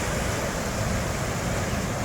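Fast, high water rushing along the Trent Severn Waterway near Lovesick makes a steady, loud, broadband roar with no break, heavy and close with some wind buffeting.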